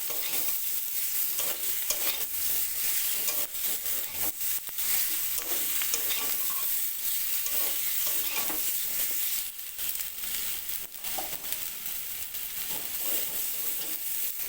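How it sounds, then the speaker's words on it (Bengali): A potato and bitter gourd curry is stirred and mixed in a pan, with loud, constant sizzling and repeated scraping strokes of a spoon against the pan, close by and without any talking. "রান্নাতে সব কিছু ভালো করে মিশিয়ে নিচ্ছি"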